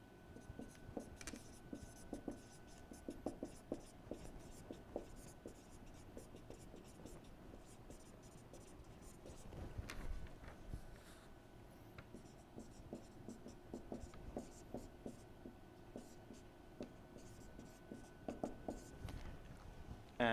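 A pen or marker writing out a gradient equation during a physics lecture on the del operator, a faint continuous scratching and tapping of strokes against a quiet room hum.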